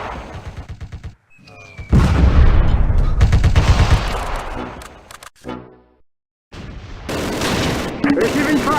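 Gunfire rattles through a Close Combat battle, with dense bursts of shots and booms, a couple of brief silent gaps, then renewed firing near and loud.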